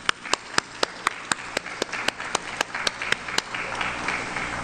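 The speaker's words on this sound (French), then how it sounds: "je vous applaudis" An audience at an international forum on state reform, held at the Banque de la République d'Haïti convention centre, claps in a steady, even rhythm of sharp beats, moderately close. The beats blur into a looser patter near the end.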